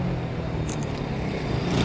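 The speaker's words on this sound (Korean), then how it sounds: "오토바이 소리 들린다." Motorcycle passing by on a street, a steady mid-pitched engine drone under broadband traffic noise, fairly close and continuous with a slight swell at the end.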